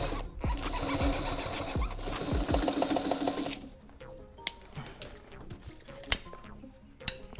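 An upholstery sewing machine stitches car seat covers for an old Cutlass, running in a steady fast mechanical chatter for several seconds before stopping, followed by a few sharp clicks and knocks close by.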